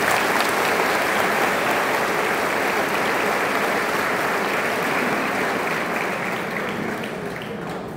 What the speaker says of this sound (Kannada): ಜೋರಾಗಿ ಒಂದು ಚಪ್ಪಾಳೆ